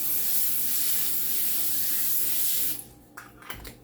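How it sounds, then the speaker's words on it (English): A close, continuous cooking spray hisses onto parchment paper for about three seconds, then stops, followed by a few soft handling taps. "I'm going to spray the parchment paper."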